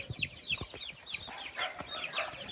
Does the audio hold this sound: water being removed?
no